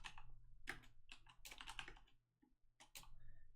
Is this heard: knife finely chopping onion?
no